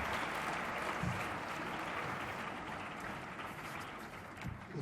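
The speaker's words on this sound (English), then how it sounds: "Please welcome him with a round of applause." A conference audience gives a steady round of applause welcoming a speaker, a dense even wash of clapping that holds for several seconds at a moderate, somewhat distant level.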